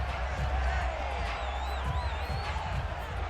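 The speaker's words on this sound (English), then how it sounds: "Plenty of shouts from this crowd as they watch the replay." Stadium crowd in Madden NFL 22 shouting and cheering during a replay in a Vikings vs Packers game, a steady roar with scattered whoops and calls, no voice talking over it.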